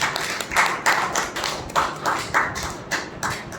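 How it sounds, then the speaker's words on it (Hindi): Audience applause at a gathering sounds as a steady run of sharp, close claps in slightly uneven rhythm, with a rumbling background under the claps. "चलो, जो भी है उनके लिए तालियां बजाएं।"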